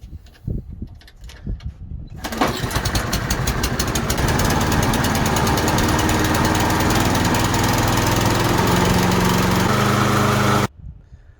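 After some clattering attempts, a Kohler engine on a Toro lawn mower, fixed after suspected fuel problems, fires and runs loud and steady for about eight seconds before cutting off abruptly.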